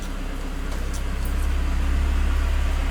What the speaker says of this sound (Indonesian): Sebentar, ada mobil lewat.